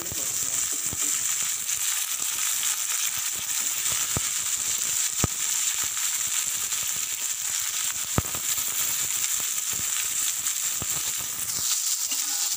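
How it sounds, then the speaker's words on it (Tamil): Onions frying in oil for a tomato gravy, a dense, constant sizzling hiss holding steady throughout, close and even, with a couple of tiny pops. "வெங்காயம் வந்து நல்லா செவக்க வறுத்துட்டுங்க வறுத்து எடுத்துக்கலாம்"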